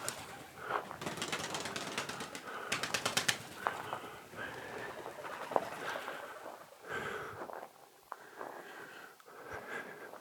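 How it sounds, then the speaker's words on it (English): Pigeons in a cave give soft throaty coos and wheezy calls that echo off the rock, with rapid wing flutters early on, scattered among quiet cave ambience. "There's a pigeon on the top there."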